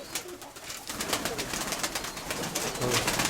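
Pigeons in a loft coo in dense, overlapping calls close by, with a continuous soft flutter and rustle running underneath throughout.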